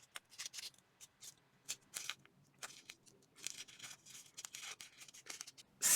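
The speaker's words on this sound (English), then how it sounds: "So first thing that I'm going to do is crumple it up a little bit in between my fingers." A paper cutout label being crumpled between fingers, quiet crackly rustles in irregular short bursts, close and alone without talk.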